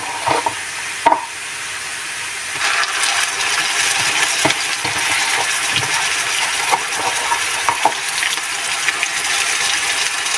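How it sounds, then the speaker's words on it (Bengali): Onion paste frying in a pan of oil and being stirred, a steady close sizzle broken by a few sharp clinks and scrapes from the spoon, with no speech. "দুই টেবিল চামচ পেঁয়াজ বাটা দিয়ে আমি এক মিনিট ভালোভাবে কষিয়ে নেব"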